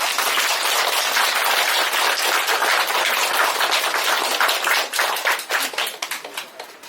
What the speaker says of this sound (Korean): 힘내시라고 박수 한번 드립니다.